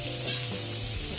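Vegetables stir-fried in a pan, a soft continuous sizzle with faint scraping of a utensil as they are mixed, close and without talk.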